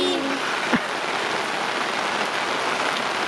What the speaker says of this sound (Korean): 빗소리 들리시죠?